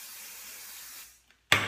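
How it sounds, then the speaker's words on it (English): Hairspray mists onto hair during curling with a wand: a steady airy hiss for about a second, a brief pause, then a sharp louder burst of spray near the end. "That's what's so nice about this hairspray is you can spray it while you're working"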